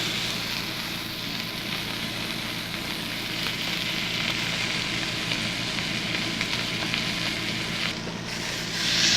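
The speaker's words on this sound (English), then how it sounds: "to sear each of the remaining sides" A rib eye steak sears in a hot pan with a loud, continuous hiss and crackle, steady from start to end and rising slightly at the close, with no voices.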